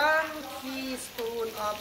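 Soft sizzling of an egg frying in a pan during a Thai cooking class in Chiang Mai, a steady crackle with voice-like tones mixed in.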